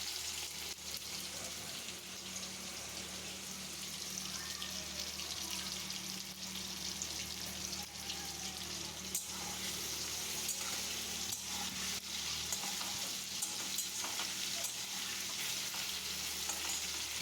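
Tomatoes and potatoes cooking with salt in a pan for a cabbage dish, giving a steady, even sizzle that runs unbroken at close range.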